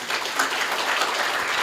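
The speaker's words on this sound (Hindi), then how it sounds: "ताली बजाओ दीदी के लिए।" A live audience at a Shrimad Bhagwat Katha religious gathering claps steadily, a dense, even wash of applause filling the whole moment with no voices standing out.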